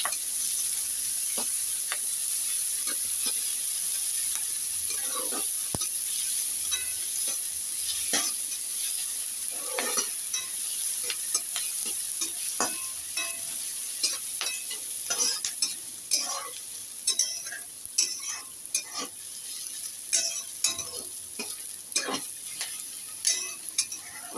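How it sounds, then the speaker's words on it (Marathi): Chopped onion and curry leaves fry in hot oil in a pan for a Maharashtrian sprouted moth bean dish, giving a steady close sizzle broken by frequent clicks and scrapes of a spoon stirring, with no talk. "कांदा आपलं छान तेलावर परतून झालेला आहे."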